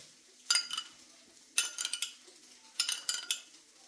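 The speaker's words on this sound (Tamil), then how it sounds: "இப்போது நான் ரெண்டும் கலந்து வச்சுருக்கேன் எப்படி கலந்துக்கணும்" Chili paste and egg masala mixed in a bowl with a spoon for masala egg dosa, giving three short bursts of scraping and clinking against the bowl, close up and separated by brief pauses, with no voices.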